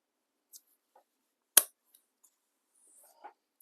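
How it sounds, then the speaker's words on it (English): Scissors make one sharp snip into the exterior fabric piece of a tote bag, with a few faint clicks and rustles around it in a quiet room. "Let me get my other scissors, probably sharper."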